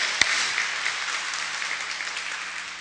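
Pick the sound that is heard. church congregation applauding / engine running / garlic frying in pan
church congregation applauding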